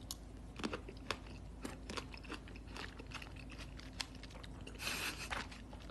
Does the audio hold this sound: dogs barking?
no